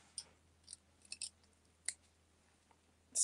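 Scissors snip a small bit of thread, a few faint, crisp clicks spaced irregularly in a quiet room, ending with a louder rustle.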